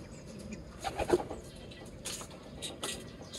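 Pigeons cooing softly with a few brief flutters of wings, faint and somewhat distant over low background rumble.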